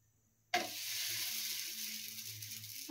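Food starts cooking in a little oil spread on a pan over a low flame, a sudden sizzle that then holds as a steady, close frying hiss, with no talking.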